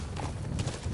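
Horse hooves clip-clop in the video game Metal Gear Solid V, a quick run of hoof beats over soft ground, close and fairly loud over a low ambient rumble.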